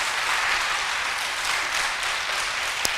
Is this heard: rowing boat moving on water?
no